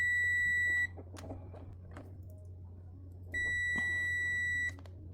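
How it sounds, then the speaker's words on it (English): A ZOYI ZT-R02 thermal imaging multimeter sounds its continuity test with two loud, steady electronic beeps, each about a second long, separated by a pause filled with faint tapping and handling noise. "Continuity test is snappy with a loud beep,"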